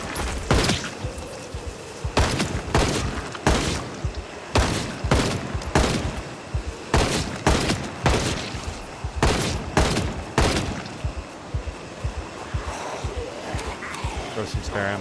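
Loud gunshots from a firearm in Project Zomboid crack out in irregular clusters, sharp and close, with several rapid bursts and pauses between them while a voice talks over the shooting.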